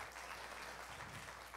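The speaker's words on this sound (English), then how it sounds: "You guys can clap for my mom and my mother-in-law." A church congregation applauds for a mother and mother-in-law, a steady wash of clapping that stays fairly even and soft throughout.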